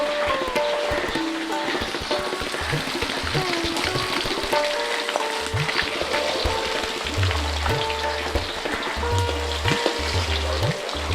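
Pieces of rohu fish fry in hot oil for a curry, a loud steady sizzle with bubbling, scraping and stirring clatter throughout, close up and with no talk over it.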